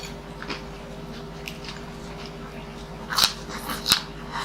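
Super crunchy food being bitten and chewed close up, with two sharp crunches standing out near the end over a low steady background hum and softer earlier chews.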